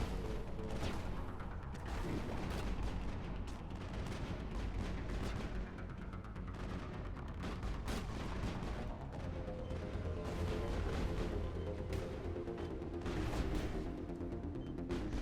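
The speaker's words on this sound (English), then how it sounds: "The reason it takes a second for that to kick in is because the Geth cannon will fire on you." A Geth cannon fires repeatedly in the Mass Effect game on Eden Prime, heavy booming blasts in an uneven rhythm over a dense, constant battle roar, loud and without speech.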